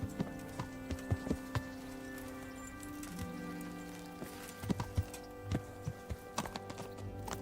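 Horse hooves clip-clop on the ground in Kingdom Come: Deliverance, a medieval role-playing game, with sharp, uneven footfalls rising and falling over steady ambient music and background hum.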